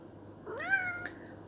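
A pet cat gives a single clear, rising meow close by, short and alone against a quiet background.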